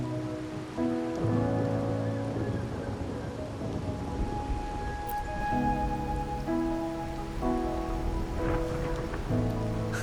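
Steady rain falls in Wuthering Waves as a continuous soft hiss, with layered game music playing over it throughout.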